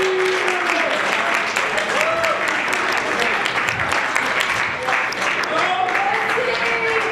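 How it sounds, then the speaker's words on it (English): Loud crowd applause at a professional wrestling show, continuous clapping and cheering with a few whistles and voices shouting across the hall. "Come on, I want a round of applause"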